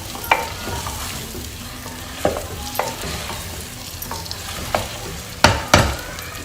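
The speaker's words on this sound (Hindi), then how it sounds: "अपनी हंडिया में इसे अच्छे से मिक्स कर देंगे।" Chopped cauliflower is stirred through a hot cooking pot, a soft continuous sizzle punctuated by irregular knocks and scrapes of the spoon, with two louder clanks near the end.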